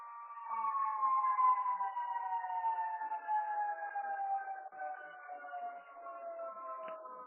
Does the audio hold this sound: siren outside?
yes